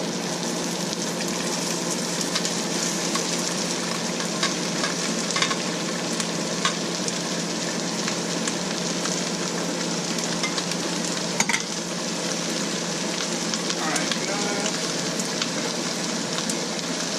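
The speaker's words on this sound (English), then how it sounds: "I'm going to go ahead and dump in the onions now" Onions fry in garlic-flavoured oil in a pan for Afghan mantu, a loud, dense, continuous sizzle like rain on a surface. Occasional stirring scrapes come through, and nobody speaks.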